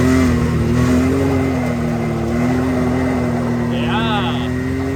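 A buggy engine drones loud and close under full throttle during a street drift, with a steady, throbbing tone and a brief higher whine near the end.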